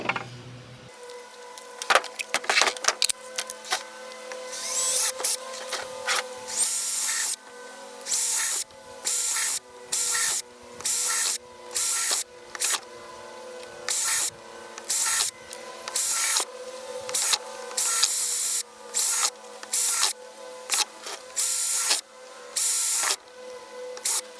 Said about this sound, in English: all you've got is a drill bit. Just grab your biggest one that's in decent condition and put that in your drill.